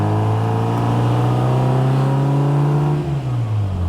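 A 1960 Bugeye Sprite engine runs through a new twin-tip performance muffler, giving a steady, close exhaust drone that holds even before dropping slightly in pitch toward the end.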